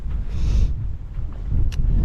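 Wind gusting across a remote, wild upland backpacking trail on the Southern Uplands Way, a steady low rumble buffeting the microphone throughout, with no talking.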